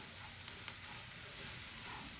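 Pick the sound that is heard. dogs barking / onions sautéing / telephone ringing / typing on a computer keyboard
onions sautéing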